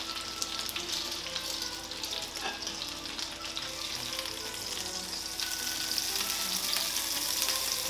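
Pork chop sizzling steadily in a pan on low heat, a continuous crackling hiss of frying juices with faint clinks, close and alone without any talk.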